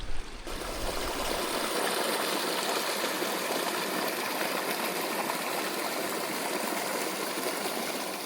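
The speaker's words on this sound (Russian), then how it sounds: "Тут ручей, родник нашли." Spring-fed forest stream in the taiga, a steady broadband rushing and gurgling of water flowing close by, even and unbroken for the whole stretch with no voices.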